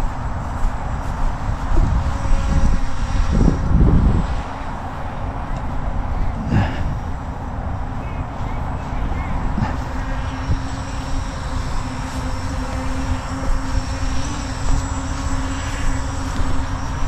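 A Holy Stone 720R camera drone with a 3-axis gimbal flying outdoors, its propellers giving a continuous buzzing whine that stays fairly loud and steady throughout, with rougher gusty noise early on.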